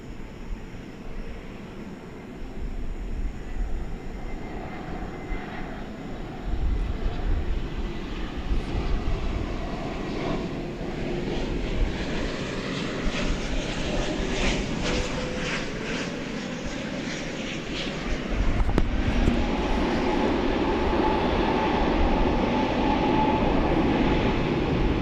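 Fiji Airways heavy jet taking off from runway 18 left at DFW airport, a distant rumbling jet roar that builds steadily and grows louder toward the end.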